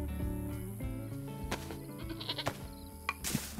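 A goat bleats repeatedly in the survival game DayZ, a close, wavering, nasal cry sustained across several calls, with a sharp click at the end.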